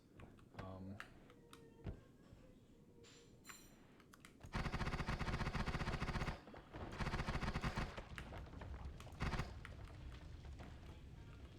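Rapid machine gun bursts in the video game Spelunky, a long dense stretch of fast repeated shots then shorter bursts, mixed with scattered clicks and game effects, fairly quiet overall.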